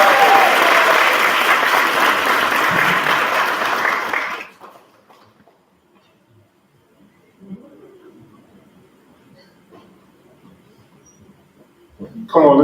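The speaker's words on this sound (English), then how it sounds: "Come on, let's give our queen another round of applause" A crowd at a university coronation event applauds loudly for the newly crowned queen, then the clapping drops away abruptly into near silence with faint rustles before a brief burst returns at the end.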